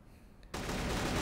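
A sudden loud burst of rapid automatic gunfire erupts after a quiet moment in a CrossFire shootout, sustained and dense to the end.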